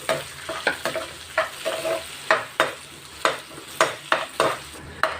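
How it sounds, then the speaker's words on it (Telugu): Onions, curry leaves and green chillies frying in a pan for a cluster bean curry, a constant sizzle punctuated by regular scraping stirs of a spoon against the pan, close and clear, with no talking. "ఉల్లిపాయలు ఇలా ఫ్రై అయ్యేటప్పుడే కాస్త కరేపాకు కూడా వేసేసుకున్నాము"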